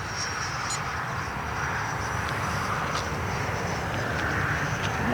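EDF jet model airplane in flight at a radio-control flying field, a steady, loud, broadband ducted-fan roar with a faint high whine, continuous and without pauses.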